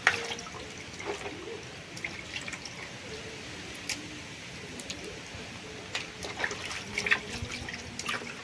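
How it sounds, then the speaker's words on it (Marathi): Water runs and drips over crabs being washed clean, a steady light splashing with scattered drips and small knocks, fairly quiet and without any talk. "हे बघा खेकडे साफ करायची सोपी पद्धत."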